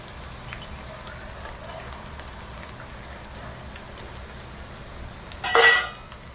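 Coarsely crushed spices fry in oil for Bengali-style desi chicken, giving a faint, even, rain-like crackle. A short, loud metallic clatter breaks in near the end.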